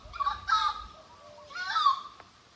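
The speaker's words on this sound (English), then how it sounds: "These chickens, these birds, they're interrupting me." Chickens clucking close by in a few short bursts of bird calls, with quieter gaps between them.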